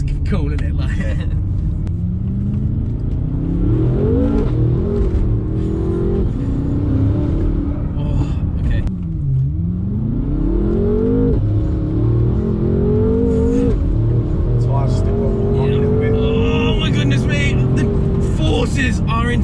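A 1000 bhp BMW M5 engine roars and rumbles under hard acceleration, pitch rising and falling through gear changes, with people talking over the noise inside the car.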